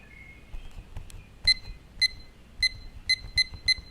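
A kitchen timer alarm rings in a series of sharp, high electronic beeps, first spaced out and then quicker and evenly paced, heard up close over a soft background rumble.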